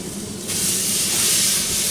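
Korean-style beef short ribs sizzle on a Pit Barrel Cooker, a broad hissing that swells louder halfway through and holds steady and close, with no talking.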